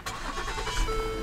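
A 2010 Lincoln MKT EcoBoost SUV starts at the push of its start button: a brief crank and catch, then a steady, close engine idle with a low rumble, and no talking.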